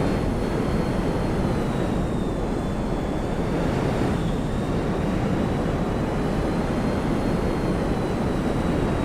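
A Pyro plane in GTA Online holds a constant, loud engine roar throughout, with a faint high whine running over the steady broadband drone.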